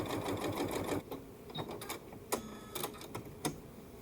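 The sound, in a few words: sewing machine sewing quilt seams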